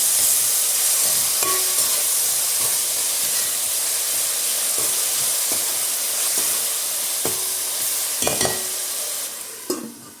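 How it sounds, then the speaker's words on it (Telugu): Ginger garlic paste sizzles and hisses steadily in a hot pan for an egg biryani, with a spoon or spatula stirring and scraping at intervals and a louder clatter near the end. "ఒక 2 స్పూన్స్ అల్లం వెల్లుల్లి పేస్ట్ కొంచెం ఇదే వరకు ఫ్రై చేసుకోవాలి."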